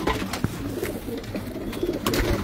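Imported pigeons coo repeatedly in a loft, several birds overlapping in a steady, close murmur of soft calls with occasional wing or perch knocks.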